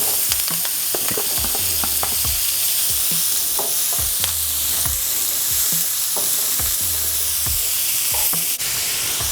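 Vegetables hit a hot pan and hiss steadily while utensils scrape and clatter against the metal in irregular knocks throughout, with no talking.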